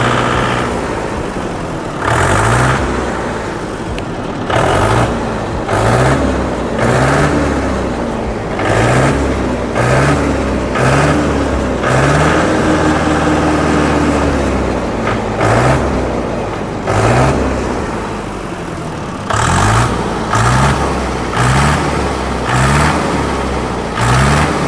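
Tractor diesel engine, just cleared of air in its diesel pump, is revved repeatedly with the accelerator, loud nearby rising bursts of throttle alternating with rough idle in a regular rhythm.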